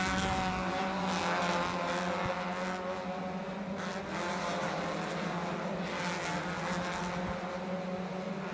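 Spec Miata race cars sweep past on the Sebring circuit in a steady, loud pack, engines droning and overlapping with rising and falling passes through the braking zone.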